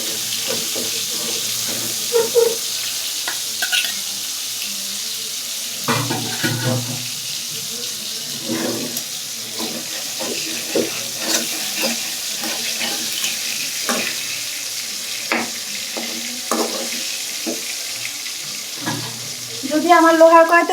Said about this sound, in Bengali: তো আমি একটু ভেজে নিচ্ছি যাতে মাছটা ভেঙে না যায়।